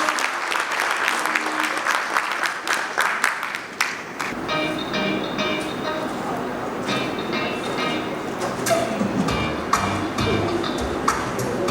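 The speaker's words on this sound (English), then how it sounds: "Please, a round of applause for our bank." Audience applause at the Polaris Bank launch of its VULTe banking app, a sustained crowd of clapping that runs steadily throughout, with brighter sharp claps in the opening seconds.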